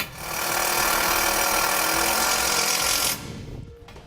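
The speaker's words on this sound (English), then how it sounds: "we'll just use some self-tapping screws to secure it into place" A power drill drives a self-tapping screw to mount a Derale Series 8000 plate-fin transmission cooler, giving a steady, loud whirring grind for about three seconds before it cuts off abruptly.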